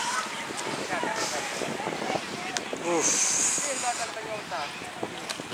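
Strong wind sweeping a sandy paragliding venue at PON XXI Aceh, a continuous rushing gust with microphone buffeting, under a voice speaking throughout.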